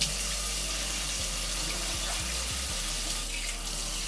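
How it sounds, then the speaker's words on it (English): Tap water runs steadily into a kitchen sink as collard greens are rinsed, a close, constant rushing splash with a few low thumps of the leaves being handled. "You gotta rinse them. You gotta clean them real good so they're not nasty and gritty."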